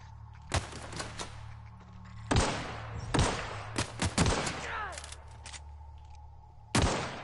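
Gunfire from the video game The Outer Worlds comes in sharp, loud shots and short bursts, spaced irregularly with quieter gaps between them.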